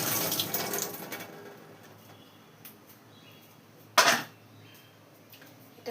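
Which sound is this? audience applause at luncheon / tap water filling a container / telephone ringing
tap water filling a container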